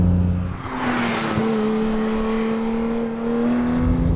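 A 2018 Porsche 911 GT3 with its 4-liter flat-six runs at steady, loud revs, the engine note holding level with a slight rise near the end. No one speaks.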